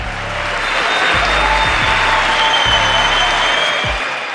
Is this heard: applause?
yes